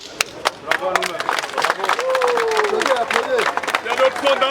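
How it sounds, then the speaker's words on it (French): A crowd of about 300 people at a gathering in Cameroon applauds with dense, loud clapping and some cheering, while a voice speaks over it. "Applaudissez. Bravo à nous-mêmes."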